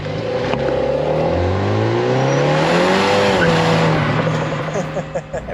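A front-wheel-drive Mini John Cooper Works corners hard on the limit of traction while chasing a Golf R, its engine note rising and falling steadily with a sustained tire squeal throughout, loud and close.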